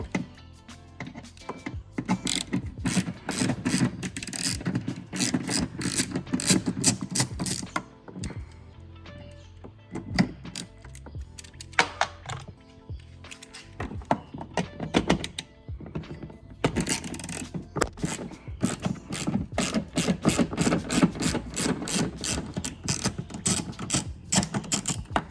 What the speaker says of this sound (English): put it in there, and then simply just undo that bolt, that screw.